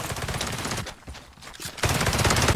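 Gunfire aimed at the player in the psychedelic cyberpunk game UNPLUG: dense, loud rattling bursts fill the stretch, dipping briefly in the middle before a heavy volley returns near the end, with no voices.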